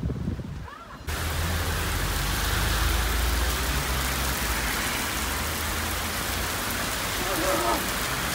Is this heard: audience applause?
no